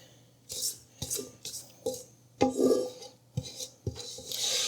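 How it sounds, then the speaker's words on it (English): Cookie dough for pumpkin cookies being scraped down the sides of a bowl with a scraper: a series of short, close rasping strokes, about seven, separated by brief pauses, with no talking. "You got to scrape it down."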